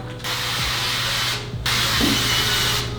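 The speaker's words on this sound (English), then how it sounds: "I'm going to spray both sides of these with some canola oil" Two long hissing bursts from a canola oil spray can onto tortillas, up close, separated by a short pause, followed by a quieter third spray starting.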